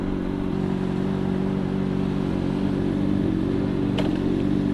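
A motorcycle engine runs at a steady idle with a continuous low drone, close and fairly loud, broken by one brief sharp click near the end.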